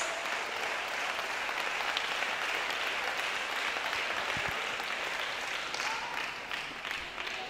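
Sustained clapping from a church congregation at an anniversary service, dense and continuous, holding level for several seconds without voices.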